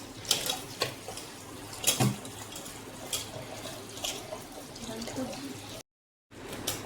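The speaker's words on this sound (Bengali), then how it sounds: "কচু শাকগুলো ভালো করে ধুয়ে নিচ্ছি আমি" Taro leaves are washed under running water at a sink, a steady near splash and trickle with brief louder gushes, while someone talks over it in Bengali.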